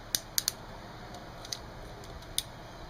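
Small ratcheting clicks from the plastic joints of a G1 reissue Seacons transforming robot toy as its legs and head are folded, a handful of sharp isolated clicks spread irregularly over a quiet background.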